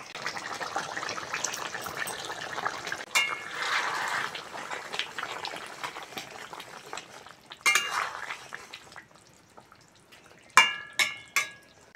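Fried raw mango pieces go into a simmering egg curry with potatoes, giving bubbling liquid and close clinks of a utensil against the pot, with a few sharper metallic taps near the end.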